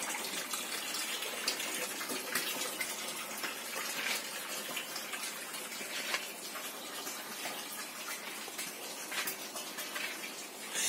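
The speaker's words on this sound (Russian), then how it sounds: "Ну, конечно, не все 200 мы выливаем" Water pours steadily from a 200-litre barrel onto cucumber plants in a greenhouse, a continuous gushing splash of moderate loudness with no talking.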